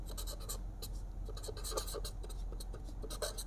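A pen scratches across paper in quick, close strokes while a math equation is worked out, a faint, busy run of scribbling with short pauses.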